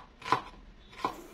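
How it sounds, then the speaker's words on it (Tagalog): Knife chopping a red tomato on a board, two quiet distinct cuts about three-quarters of a second apart in an otherwise still kitchen. "Maghiwa naman tayo ng kamatis."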